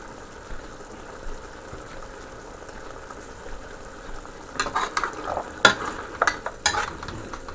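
Beef and potatoes stir-frying in a pan: a steady, fairly quiet sizzle runs throughout, with a cluster of sharper scraping and clattering stirs near the end.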